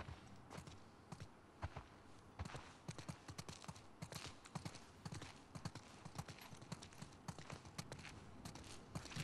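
Horse hooves clip-clopping in the video game The Last of Us Part II, a steady run of close, sharp hoof strikes at a walking rhythm with a faint bed of ambience beneath.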